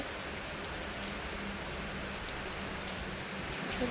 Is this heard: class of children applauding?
no